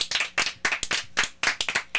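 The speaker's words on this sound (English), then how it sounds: "let's have a big round of applause for Kevin Nunes" A small audience claps together for Planet Beach owner Kevin Nunes in a brief, close burst of brisk, uneven hand claps.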